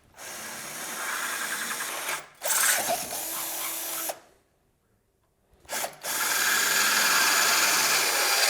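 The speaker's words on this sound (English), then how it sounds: "we'll switch to the 1/4 inch drill bit" A power drill fitted with a 1/4 inch bit runs in two steady whirring bursts, stops for a short silence, then runs again, close and alone, while installing a lead acid battery upgrade kit.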